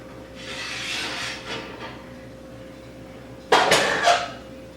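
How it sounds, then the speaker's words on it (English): A baking pan of peach squares being taken out of the oven, with soft rubbing and scraping followed by a sharper metallic clatter and scrape of the pan, close by. "now I'm going to take my peach squares out of the oven"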